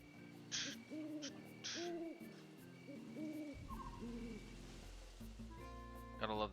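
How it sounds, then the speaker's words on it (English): An owl in the video game Pokemon Phoenix Rising hoots in a repeated series of soft, evenly spaced calls over game music and ambient tones, ending with a brief bright chime. "Gotta love the sound of the owl hooting and hollering."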